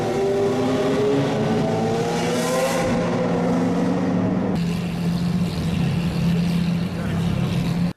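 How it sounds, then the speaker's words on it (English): Koenigsegg supercars cruising through Monaco during the Grand Prix, engines droning loudly and steadily with rising and falling revs over about eight seconds, one car seeming to pass close by. "a couple of Koenigseggs that were cruising around Monaco during the Grand Prix"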